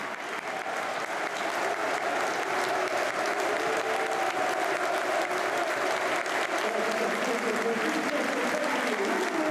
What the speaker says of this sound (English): Generous applause for the players departing.